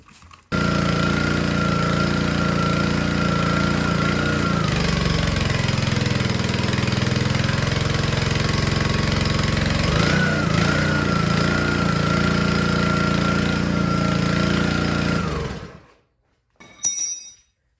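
The small engine on a log splitter runs continuously at a loud, steady idle close by, with a slight knocking texture, then cuts out near the end with a last brief rattle.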